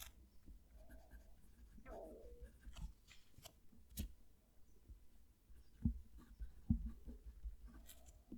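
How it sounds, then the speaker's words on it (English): A TWSBI Eco fountain pen scratches across paper heard up close, soft intermittent strokes and light taps over a quiet background hum. "I'm going to move the mic down to the page so you can hear the pen write."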